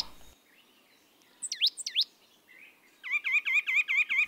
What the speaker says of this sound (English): Can you hear the chorus of northern flickers, woodpecker drumming, chestnut-backed chickadees, white-breasted nuthatches, and oak titmouses